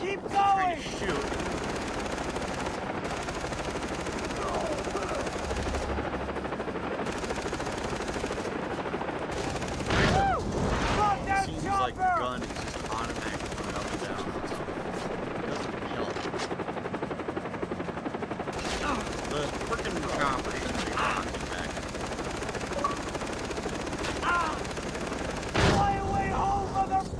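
Rapid machine-gun bursts and scattered gunshots ring out in Far Cry 3 combat against attacking choppers, loud and repeated over a steady rumbling game soundscape, with voices calling out at times.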